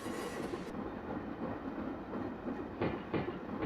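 Train running in the Train Sim Classic game on a San Francisco to Sacramento interurban service, a steady rumbling roll with rhythmic wheel clatter, fairly quiet, ending in a few louder clacks.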